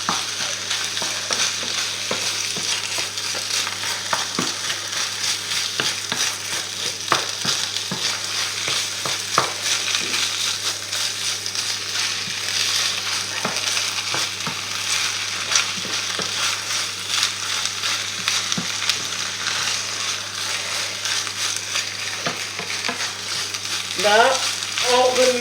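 Onions and spinach fry in oil in a pan, a continuous close sizzle with steady crackling and the scrape of stirring running throughout, loud and unbroken.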